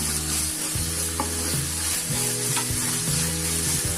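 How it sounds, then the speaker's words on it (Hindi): Chicken stir-frying in a hot pan for restaurant-style fried rice: loud close sizzling with rhythmic scraping and tossing strokes about every half second, steady and without voices. "अच्छे से स्टर फ्राई करेंगे।"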